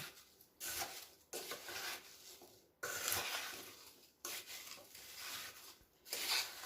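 Apple filling with granulated sugar and cinnamon powder being stirred by hand in a bowl, soft rubbing and scraping strokes in uneven waves, quiet and close with no talking.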